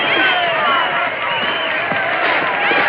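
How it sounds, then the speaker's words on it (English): A boxing-arena crowd roars continuously during a fast, brutal grudge fight, the sound dense and steady but muffled and thin like an old film soundtrack, with a voice faintly mixed in. "Listen to that crowd."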